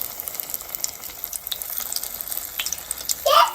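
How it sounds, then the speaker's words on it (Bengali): Soybean stick pakoras frying in hot oil, a soft steady crackle and hiss with a few brighter pops and a louder bubbling burst near the end. "তো দেখো এরকম করে প্রত্যেকটা পকোড়া ভাজতে হবে।"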